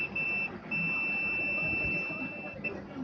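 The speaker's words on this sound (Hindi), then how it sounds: "तो इसको भी हम बजर के रेंज पे ले जाते हैं अभी" A digital multimeter set to its buzzer range beeps as a capacitor is tested, a thin continuous electronic tone that breaks off briefly and resumes, over soft background noise and light room sound.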